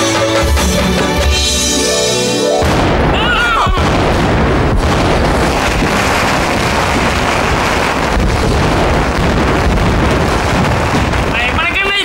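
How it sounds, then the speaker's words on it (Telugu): Firecrackers burst in a film scene, a rapid string of sharp cracks and booms. They follow a short stretch of music, rattle on loudly for several seconds, and are rough with wind-like noise. "టపాకాయలు, టపాకాయలు."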